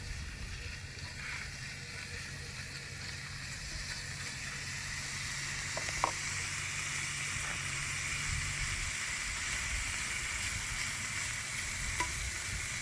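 Steady hissing sizzle of bacon frying in a hot cast iron skillet, constant and close, with a few faint pops and clinks.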